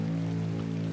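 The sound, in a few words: pouring rain in video game The Excavation of Hob's Barrow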